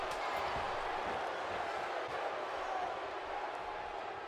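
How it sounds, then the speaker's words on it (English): A Las Vegas arena crowd boos steadily throughout a WWE 2K17 wrestling match, a dense, continuous roar of disapproval at fairly low level, with no commentary audible. "As you can hear, the boos are deafening now."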